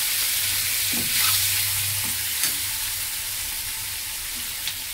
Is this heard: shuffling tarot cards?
no